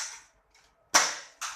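A Nerf N-Strike Modulus Tri-Strike blaster fires darts: two sharp, close pops with short tails, one after the other, with a faint shuffle of handling between shots.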